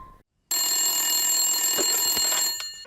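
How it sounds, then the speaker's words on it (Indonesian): A telephone bell rings in one continuous burst after a moment of silence, clear and fairly close, then cuts off. "Malam itu terdengar dering telepon yang langsung diangkat oleh Kartika."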